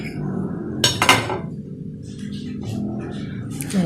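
A knife cuts through a soft baked marble cake on a plate, giving a few close clinks and scrapes against the plate with a brief louder contact near the start and faint handling after.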